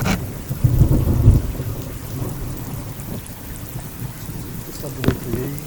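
A thunderstorm with rain falling near a garden under the eaves of a house: steady rain patter throughout, a deep rolling rumble of thunder early on and a sharper crack later, fairly close.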